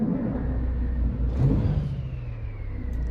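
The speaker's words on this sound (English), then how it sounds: "underneath the hood, you might have just heard by that little sound there, we do have the Caterpillar C15 out" A Caterpillar C15 truck engine in American Truck Simulator starts up and revs, with a steady low rumble that swells midway and then settles back to a sustained idle. No one speaks over it.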